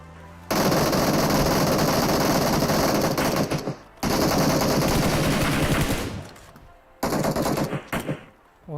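Bursts of automatic gunfire from the video game PUBG Mobile, loud and dense, in three long volleys of rapid shots broken by short gaps.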